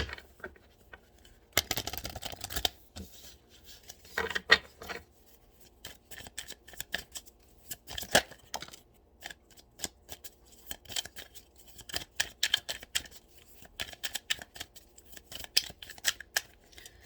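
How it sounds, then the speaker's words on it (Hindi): Tarot cards are shuffled by hand in repeated soft riffling bursts and flicks, close and fairly quiet, separated by short pauses, with no talking. "मैं एक दफ़ा फिर शफल कर लूँ।"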